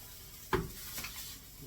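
Garlic and onion in a frying pan give a soft, steady sizzle, broken by a brief utensil scrape and a light clatter as the pan is stirred, with no talking.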